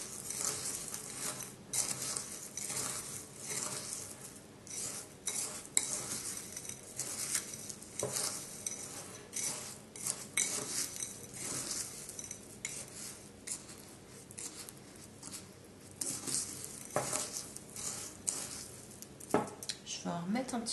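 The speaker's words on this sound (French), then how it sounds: "il faut bien mélanger pour que le peu d'huile qu'on a mis se mélange bien et que la couleur de la chlorophylle se révèle bien aussi" A spoon stirs bath salts mixed with oil and chlorophyll in a bowl, giving continuous gritty scraping and clinking, close and fairly quiet, with someone speaking at times.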